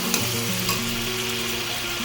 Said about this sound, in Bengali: মাংসটা খুব ভালোভাবে ভাজা হয়ে গেছে। এতে আমি এখন আদা রসুনের পেস্টটা দিয়ে দেবো।